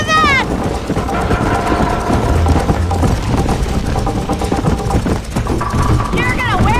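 In the Red Dead Redemption video game, a horse gallops in a steady, rhythmic clip-clop of hooves. It runs under talking voices and other game sounds throughout.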